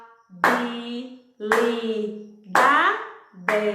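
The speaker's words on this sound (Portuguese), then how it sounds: "Quantas vezes eu bati palmas?" Hands clap five times in a slow, even rhythm, each sharp clap layered over a voice sounding out the syllables of a word in Portuguese during a classroom lesson.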